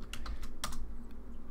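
Quick bursts of typing on a computer keyboard while coding, a few soft key clicks in an uneven rhythm over a low room hum, close and quiet, with no speech.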